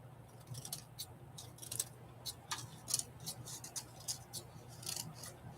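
Scissors snipping paper for a collage, a run of quick, light cuts in an irregular rhythm, close and faint over a steady low background hum.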